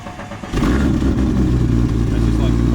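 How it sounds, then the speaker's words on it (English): An 1100hp manual Ford Barra engine fires up with its exhaust valve shut, a short crank then an abrupt loud, steady rumbling idle close by, with voices talking over it. "I'll start it, and it's got the exhaust valve shut at the moment."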